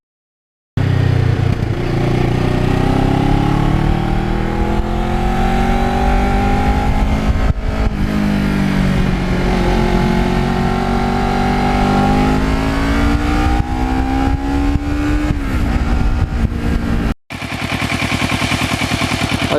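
A 12-year-old Kawasaki Ninja motorcycle cruises along a scenic road, its engine droning steadily and close with rising and falling pitch as the rider shifts, plus wind rush, continuous for most of the stretch.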